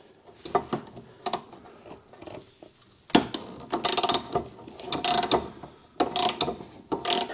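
A 12 mm socket wrench ratchets a bolt on a 1980 Toyota FJ40 Land Cruiser during clutch master and slave cylinder work, giving close, bursty bouts of rapid clicking with short pauses between strokes.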